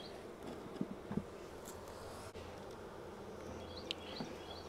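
Honey bees from a captured swarm buzz while being moved into a 10-frame hive box, a continuous low drone with a few brief nearby passes and light knocks of equipment.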